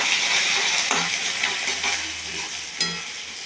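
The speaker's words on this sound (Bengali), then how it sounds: "এবার দেব তোমার জিরে ফোড়ন, তেজপাতা, আর দেব তোমার আদা।" Cumin seeds, bay leaf and ginger spit and sizzle in hot oil along with dry red chilies, a steady bright frying hiss with a few sharper pops, close and fairly loud with no talk.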